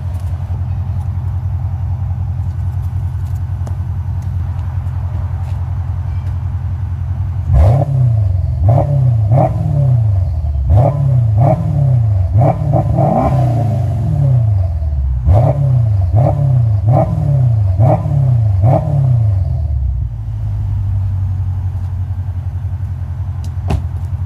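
A modified CL550 exhaust with swapped mufflers idles with a deep, steady rumble, then blips through a run of sharp, rhythmic revs, roughly a dozen quick throttle pulses, before settling back to idle, loud and close.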